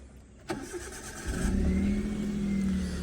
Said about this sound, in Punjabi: ਆਪਾਂ ਹੁਣ ਗੱਡੀ ਸਟਾਰਟ ਕਰਕੇ ਚੈੱਕ ਕਰਵਾ ਦਿੰਦੇ ਆ